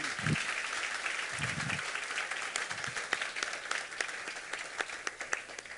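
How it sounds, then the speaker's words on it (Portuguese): An audience at a Café Filosófico evening talk claps to welcome Marcelo Tas to the stage. Steady, moderately quiet applause continues throughout, with a few low murmurs early on. "Então vamos recebê-lo com um aplauso de boas-vindas."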